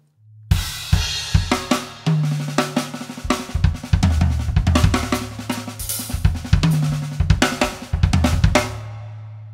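A drum groove with loud accented snare hits set against soft ghost notes, cymbals ticking steadily through a lively, varied rhythm.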